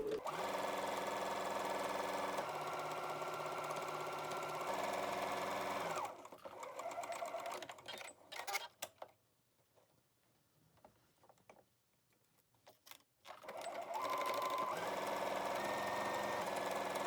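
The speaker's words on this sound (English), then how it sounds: "Sew on both sides of the center front extensions." Sewing machine stitching along a skirt's center front extension, a close steady mechanical whir that stops for several seconds in the middle, with faint handling noises, then starts running again.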